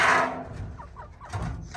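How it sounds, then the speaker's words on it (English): Chickens cluck in a few short, soft calls near the microphone, with a brief louder burst of noise at the start. "Chickens are all still doing good."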